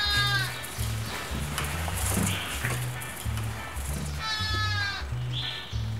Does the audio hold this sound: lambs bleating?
yes